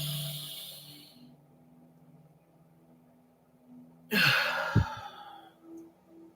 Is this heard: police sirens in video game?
no